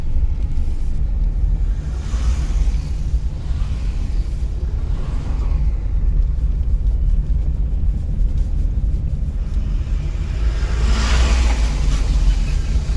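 A car engine rumbles during a driving lesson in Solan. The low drone is steady and loud, with gentle rises in revs and some wind noise on the microphone.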